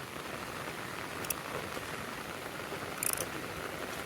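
Steady rain falls over a green Konkan village, a dense, even hiss close by with a few brief clicks and no talking.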